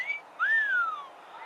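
A whistle sound effect: a short high tone, a brief pause, then a longer whistle that rises and slowly glides back down. It plays alone and clearly, with no talking.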